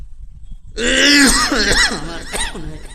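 A man coughs and clears his throat, a harsh rasping rumble followed by a couple of shorter guttural hacks, close and loud, after a brief quiet start.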